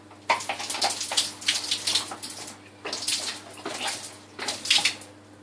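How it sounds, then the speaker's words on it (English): Water poured over a waterproofed Cordura fabric motorcycle jacket in three separate splashing bursts, each a close, hissing pour that drains off, with short pauses between. "we're just going to give you a quick demonstration by pouring some water over it so that you can see exactly how waterproof it is."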